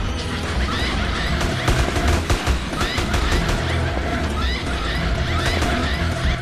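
Rapid bursts of gunfire in GTA San Andreas crackle continuously, dense and loud, with occasional heavier shots over a steady rumbling background.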